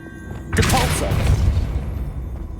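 A Depulso spell cast in Hogwarts Legacy bursts out with a sudden loud whoosh and thudding boom, its heavy rumble trailing off over a couple of seconds.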